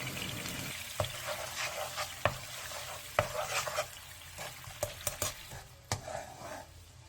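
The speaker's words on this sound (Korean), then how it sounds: "양념이 전체적으로 바글바글 끓으면" A sauce of soju, soy sauce, corn syrup, oil, minced garlic and sugar bubbles in a pan over medium-low heat, a soft continuous simmer broken by sharp clicks and taps of a utensil against the pan.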